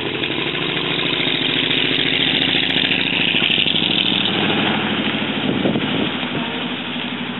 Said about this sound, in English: take this for a little spin